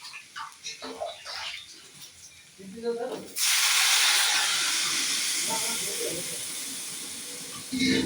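Water hits a hot pan of dalia with a sudden loud hiss and steam burst that holds steady for several seconds, after a stretch of quieter clinking and stirring.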